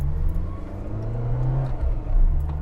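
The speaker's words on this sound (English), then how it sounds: "I love the noise this little K-Series engine makes" A small car with a K-Series engine driving, a steady low engine drone heard from close by, rising slightly near the end, with no talking.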